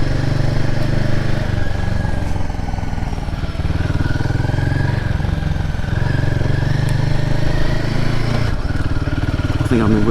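Royal Enfield Himalayan 450 motorcycle engine putters steadily at low revs while the rider turns around on a green lane, a close, constant thrum with a few small changes in pitch.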